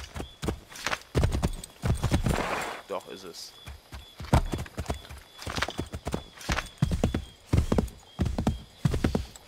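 Horse hooves clip-clop in a steady trotting rhythm in Assassin's Creed III, close and prominent throughout, with a horse whinny near the start and someone talking over the hoofbeats.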